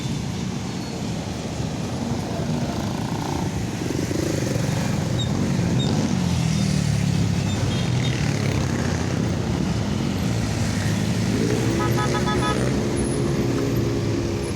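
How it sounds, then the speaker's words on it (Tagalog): Busy road traffic near SM South Mall in Las Piñas, with a continuous close rumble of cars and motorbikes and a brief tonal horn-like blare late on. "May traffic po tayo."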